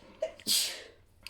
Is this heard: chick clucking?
no